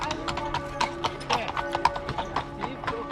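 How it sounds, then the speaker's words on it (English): Hooves of horse-drawn carriages clip-clopping on a street, in a quick irregular rhythm at moderate distance, with people talking in the background. "There's these carriages everywhere."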